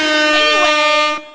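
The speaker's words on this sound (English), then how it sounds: "Air horns." A loud, close air horn blares in one sustained tonal blast for about a second before stopping abruptly.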